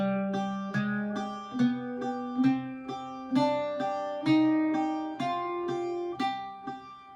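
An Irish bouzouki picks a Phrygian dominant scale, alternating each plucked scale note with a ringing top D drone in a steady, even rhythm, close and clear with no talk.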